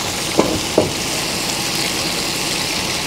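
Steady sizzling of food frying in a pan, a broad hiss throughout, with two brief soft knocks early on.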